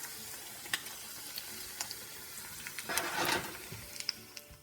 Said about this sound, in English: I've flipped the egg, and you can see how it just slides around in the pan.